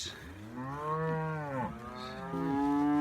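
Cattle being moved into a fresh paddock moo in several long, drawn-out calls that overlap, fairly near and clear, with no talking.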